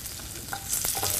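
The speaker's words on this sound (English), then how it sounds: "Hear that sizzle? That's what we want to hear." Baby red beets crackle and sizzle in hot oil up close, a brief burst of frying with a few sharper pops.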